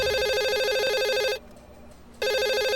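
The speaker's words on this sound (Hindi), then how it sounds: "आपके डेस्क पे फोन बज रहा है, उठाइए जाइए।" A telephone on an office desk rings with a loud, repeating electronic trill, breaks off briefly, then starts ringing again, with no voices over it.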